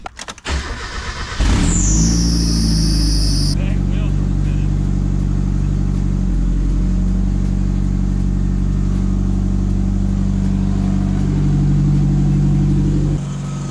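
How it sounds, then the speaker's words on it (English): A Mazda Miata engine with bald tires cranks over, catches and settles into a loud, steady idle up close, a high whine fading after a couple of seconds, with one brief rev near the end and voices speaking quietly over it. "So the car is running."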